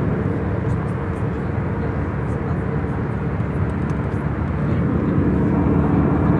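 Steady, loud cabin drone of a passenger airplane in flight, a constant broad rumble without change.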